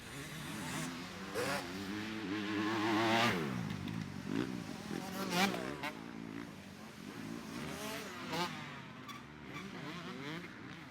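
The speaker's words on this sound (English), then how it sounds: "DeFeo, meanwhile, had caught and passed up the XC3 riders that started a row ahead" Off-road motorcycles race through the woods at the 2024 GNCC Buckwheat 100, with engines revving up and down in sharp rising and falling whines as several bikes pass close by one after another.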